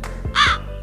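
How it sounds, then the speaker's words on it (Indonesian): A single crow caws once, a short harsh call standing out clearly against a quiet background with a low steady hum. "suara burung ya, guys"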